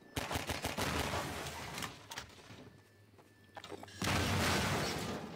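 In the video game Half-Life 2, loud, dense bursts of booming and rapid gunfire-like blasts, a brief lull, then another heavy explosive rumble.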